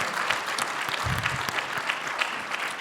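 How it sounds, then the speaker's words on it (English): A crowd at a live show at PAX East 2024 applauds steadily, dense clapping filling the space with no voices on top. "It's very nice of you to applaud that."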